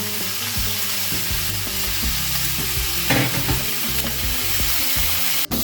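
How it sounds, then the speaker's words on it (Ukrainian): Pork ribs fry in their own rendered fat in a pan, giving a steady close sizzle with occasional stirring scrapes and a brief sharp clatter near the end. "І підсмажимо трошки так для золотистої корочки, а тоді поставимо тушкувати."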